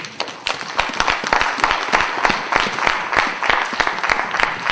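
A church congregation applauds together, with dense, steady rhythmic clapping close and loud throughout, with no voices standing out.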